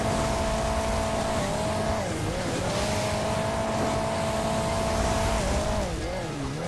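A car in the mobile game Hill Climb Racing 2, running on boosters through a spring city level, with a loud, steady engine drone whose pitch holds, dips and climbs again as the car accelerates and lands, and no voices.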